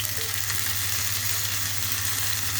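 Crushed ginger, whole cumin, bay leaves, cardamom, cloves and five-spice seeds frying in hot oil for vegetable khichuri, giving a steady close sizzle and crackle with a low hum underneath and no talking.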